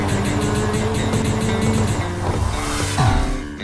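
Race cars roar through a solo race in Asphalt 8, engines droning steadily at close range with a pitch sweep and tire noise near the end, no talking.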